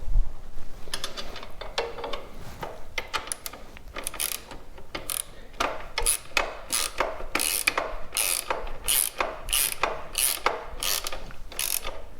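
Ratchet tightening a nut on a CSC SG250 motorcycle footpeg mount, rapid close clicking in repeated back-and-forth strokes over wind noise, no talking.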